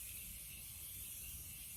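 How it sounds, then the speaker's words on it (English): Morphe setting spray misted onto a face, a steady close hiss lasting the whole moment with no pauses and no talking. "I'm going to spray my face with the Morphe setting spray."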